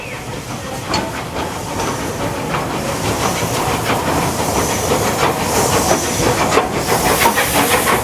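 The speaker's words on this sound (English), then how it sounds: "We will now conclude this video with Lord Nelson pulling back into Ropley Station." Steam locomotive Lord Nelson draws into Ropley Station with a loud, continuous hiss of steam over rumbling wheels and rhythmic clickety-clack on the rails, growing slightly louder toward the end.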